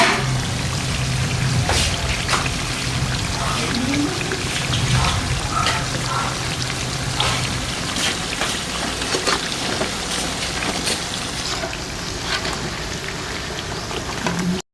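Breadfruit chunks stirred in a pan of melting sugar, a continuous sizzling, crackling bubble that rises and falls with the stirring, steady and close for the whole stretch, with no voices.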